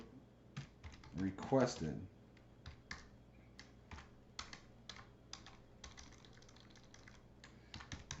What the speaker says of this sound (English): I'm just going to write a quick email